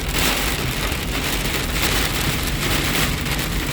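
A heavy downpour drums on surfaces outdoors during a bass-fishing outing. The rain is loud, dense and continuous, close at hand and steady from start to finish, with no voices.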